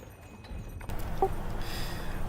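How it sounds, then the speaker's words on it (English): Horse hooves clacking on stone as a carriage rolls along, a steady clip-clop that grows busier and louder partway through, heard alone without talk. "the sound of the horse's hooves clacking against the stones"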